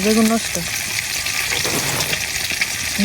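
Fish fries in a pan with a steady, fairly loud sizzle that runs throughout, while a person briefly speaks over it at the start and end.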